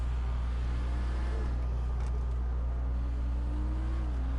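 A steady low engine hum comes from the Dubachi Spectre sports car in GTA 5, with slight pitch swells as it revs.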